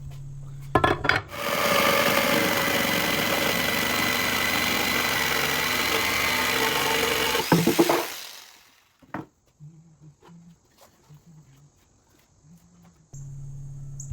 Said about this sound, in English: I'm using a jigsaw to make the cuts.